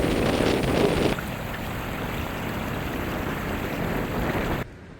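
Strong wind buffets the microphone outdoors beside a river, a loud, continuous broadband roar with a louder gust at the start that eases to a steady rush before cutting out near the end.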